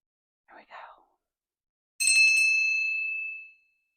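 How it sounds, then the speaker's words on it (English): A single bright bell strike for energy cleansing rings out clearly and decays over about a second and a half, preceded by brief soft speech and otherwise near silence. "I do like on that bell ring, there was like an extra little ding more than I anticipated."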